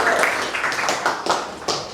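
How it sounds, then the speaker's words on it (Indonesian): Applause in a classroom during a teaching session, with a group of students clapping in a steady, fairly loud burst that rises and falls in waves across two seconds. "Tepuk tangan."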